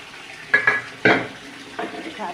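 Small fish for a tomato chachchori fry in a pan, with a soft steady sizzle broken by a few close clinks and scrapes of a utensil against the pan.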